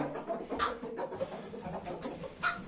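Young chickens, not yet grown into roosters, cluck softly in a garden flock, a few short, close calls rising now and then over a quiet, steady background.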